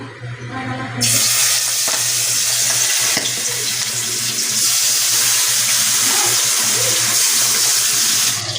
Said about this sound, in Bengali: আমি মাছটা এখন লাল লাল করে ভেজে নিব।